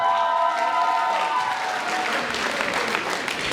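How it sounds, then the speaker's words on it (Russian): An audience at a student comedy team contest during freshman week applauds, with dense, sustained clapping close and loud from a full crowd, and a fading musical tone underneath at the start. "аплодисменты"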